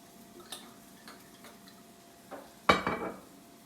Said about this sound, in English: moving it around with our wooden spoon and beginning glazing nicely